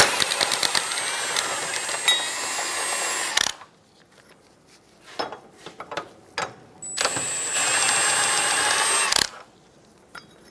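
Power ratchet removing rear subframe bolts on a 2003-2007 Honda Accord, in two long loud whirring bursts separated by a quieter stretch of clicks and clanks.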